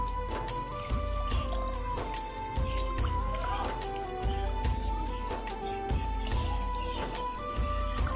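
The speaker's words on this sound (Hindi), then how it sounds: "तो अब इसके अंदर पानी ऐड हो चुका है 4 ग्लास।" Water poured into kadhi pakora mixture in a home kitchen, with soft splashing and trickling under steady background music.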